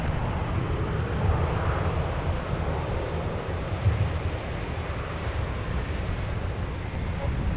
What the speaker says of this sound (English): And now touching down from AMS, it is Delta 165 a heavy.